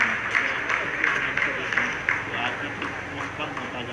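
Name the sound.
scientists applauding in a control room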